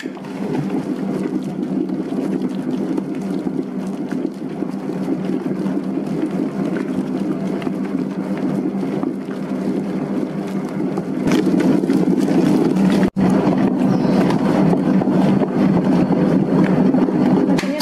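A dough mixer machine kneads panada bread dough with a steady, loud mechanical whir and churning rumble throughout, growing slightly heavier in the later part, with no voices over it.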